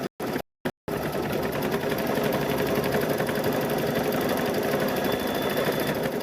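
Sewing machine stitching quilting lines through a patchwork gnome quilt runs in a fast, steady mechanical whir after a couple of brief stop-start bursts at the beginning.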